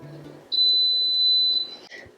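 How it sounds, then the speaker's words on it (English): An Instant Pot pressure cooker timer gives one steady, loud electronic beep lasting about a second, with a short chirp just after it, in a quiet kitchen. "Okay, so the timer's gone off."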